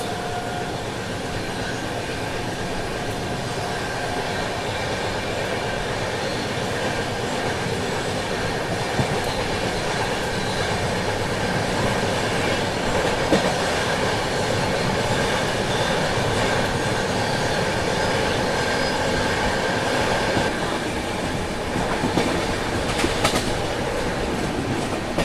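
A Rajdhani Express rolls steadily along the rails, a continuous broad rumble of wheels and carriages with faint rhythmic clatter and occasional metallic squeal, heard from inside the train.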